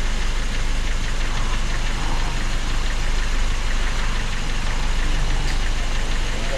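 Car engine running at steady elevated revs during carburetor adjustment at an auto repair shop, a loud continuous rough drone with no talk heard.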